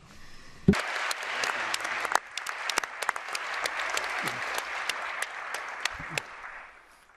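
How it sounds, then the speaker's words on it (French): An assembly hall of high school students and teachers from EU countries applauds a speaker, a broad wash of clapping with a few sharp, close claps standing out, sustained for about seven seconds before fading. "On vous applaudit."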